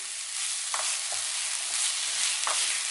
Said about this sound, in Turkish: İyice kahverengi renk alana kadar her yeri iyice karamelize olsun. Biraz daha kızarsın.